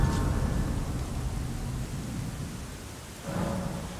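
Heavy rain hisses continuously with deep rumbling thunder in Elden Ring, a loud roll at the start and another swell near the end.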